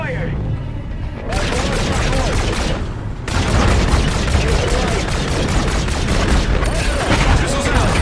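Missiles launch from a warship toward an enemy destroyer in Call of Duty Infinite Warfare: a loud, dense roar of rushing blasts that runs unbroken for about eight seconds and swells louder partway through.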